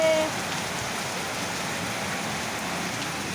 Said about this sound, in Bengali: দেখো বাইরে কি বৃষ্টি নেমেছে প্রচুর বৃষ্টি নেমেছে